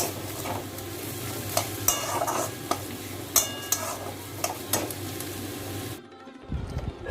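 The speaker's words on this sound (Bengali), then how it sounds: "বিট ভাজা" Beetroot being stir-fried in a pan: steady sizzling with frequent scraping and knocking of a spatula against the pan, then a brief quieter pause near the end.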